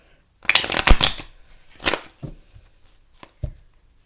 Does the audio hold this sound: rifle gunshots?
no